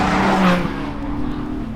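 Porsche Boxster engine howling as it climbs toward the redline, a loud sustained rising tone, steady throughout with no talk over it.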